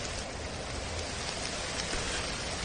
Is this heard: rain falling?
yes